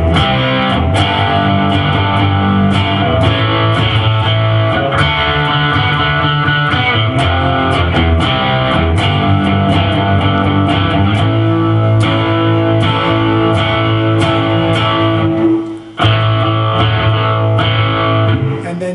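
Distorted electric guitar strums the chorus rhythm of a rock song, a loud, driving, continuous chugging pattern with a brief dip near the end, with no talking.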